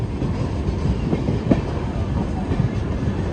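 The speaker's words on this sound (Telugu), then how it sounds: "ముంబై బెంగళూరు ఉద్యాన్ ఎక్స్ప్రెస్." The Mumbai–Bengaluru Udyan Express rumbles past at a steady roar, wheels clattering faintly over rail joints, loud and close throughout.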